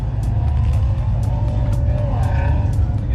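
A naturally aspirated car engine idles and revs at a Cars and Coffee meet, a loud, steady close drone with rising pitch, punctuated by short clicks or ticks.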